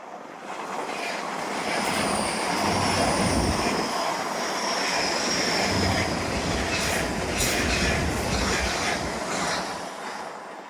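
A steam train rumbles past at close range along a seawall, a steady roar with clattering wheels that swells and holds for several seconds before easing.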